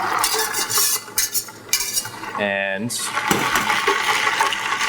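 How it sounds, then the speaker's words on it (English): Hot brine of dissolved sugar and aromatics pours over ice and is whisked, with splashing, clinking and a bubbling gurgle in the middle, loud and close, and a person speaking briefly. "we take this and pour it over the ice"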